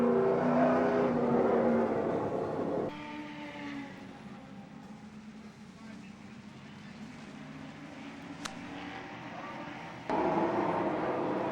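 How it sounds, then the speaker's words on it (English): Late model race cars idle and rumble on a dirt track while lining up for a restart, a steady engine drone with louder stretches at the start and end, under a voice talking. "14 cars going 25 laps as Dancing Doug Fox Hoosier Tire Late Model B feature"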